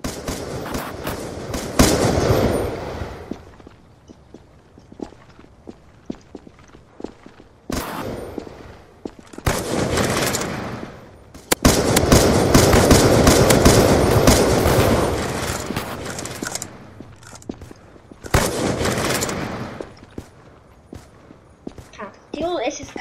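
Assault rifle gunfire in a combat video game, with bursts of rapid automatic shots in several dense volleys separated by quieter gaps with isolated reports, while a person talks over it.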